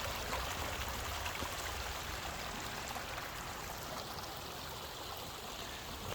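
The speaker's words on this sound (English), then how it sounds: "So this is the water that comes under the driveway and out into the pasture area." Rainwater flows through a drainage culvert under a driveway and out into a pasture, a steady, dense rushing and trickling that stays constant throughout, with no voices.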